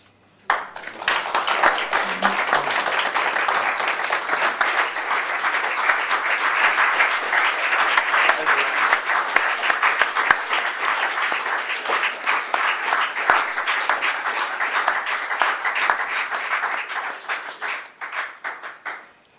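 A large audience applauds after a lecture: dense, sustained clapping that swells in quickly, holds steady and loud for about eighteen seconds, then tapers off at the end.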